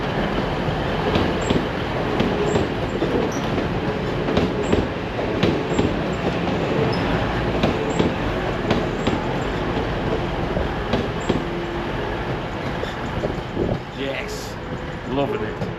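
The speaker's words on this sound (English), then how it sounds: "I think I can hear a train" Train rumble and rolling rail noise inside the National Railway Museum in York, a steady broadband roar with faint clicks and a brief squeal, running continuously under people talking nearby.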